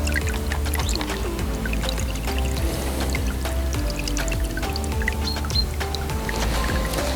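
Soaked pasta drains in the kitchen, with water pouring and splashing in a continuous, fairly loud rush that lasts the whole time.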